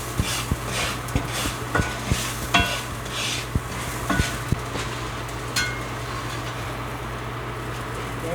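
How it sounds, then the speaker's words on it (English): Crispy mushrooms with scallions sizzle softly in a pan as a spoon stirs them, with intermittent scrapes and light taps against the pan over a constant low hum, close-up and without speech. "We're going to stir it up."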